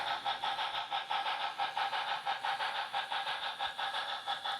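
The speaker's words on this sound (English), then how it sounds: "After the ore train, we'll see a tank train and then a reefer hotshot train depart St. Paul" Model freight trains rumble and click along a layout in a steady, quiet rhythm, their repeated rail clatter continuing evenly with no voices.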